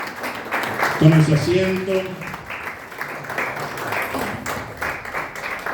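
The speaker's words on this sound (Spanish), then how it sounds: "¿Cuánto le aplauden a la palabra del Señor?" Church congregation applauding during a Spanish-language worship service, a dense patter of clapping running beneath someone speaking, with brief sung or sustained voice tones near the start.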